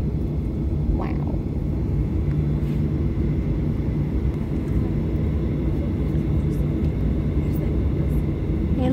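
A jet airliner rumbles loudly and steadily as it takes off from Houston airport, a broad roar heard from inside the cabin.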